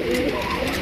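A pair of Jharna satin pigeons gives a short, close cooing call, one soft murmuring coo with no talking over it.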